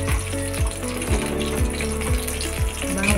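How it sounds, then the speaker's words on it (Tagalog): Garlic and onion sautéing in a hot pan as the base for squid adobo, a steady loud sizzle with a repeating mechanical rattling pulse running through it, no voices. "Igisa na natin."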